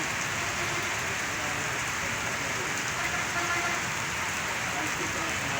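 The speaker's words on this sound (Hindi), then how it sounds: "ये बारिश आ रही है" Steady, heavy rain hisses evenly throughout, a dense wash of falling water with no pauses.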